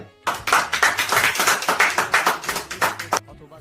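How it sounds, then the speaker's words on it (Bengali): Audience clapping at a stage event honouring a singer, a fast, lively run of claps from a small crowd, close and loud for about three seconds before it stops abruptly. "হাততালি সবাই।"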